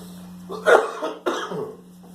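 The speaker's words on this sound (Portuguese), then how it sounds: "Essa tosse terrível." Two harsh, raspy coughs in close succession, loud and near, during a church sermon, with a low steady hum underneath.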